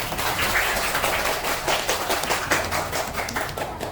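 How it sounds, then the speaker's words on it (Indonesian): A classroom of students claps for a classmate, a dense patter of many hands ringing steadily through the room for several seconds. "Ya, tepuk tangan untuk Lady Dara."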